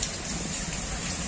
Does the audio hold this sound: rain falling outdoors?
yes